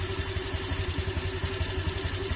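A motorcycle engine idles steadily close by, a low rhythmic chug with a light, normal valve ticking running through it.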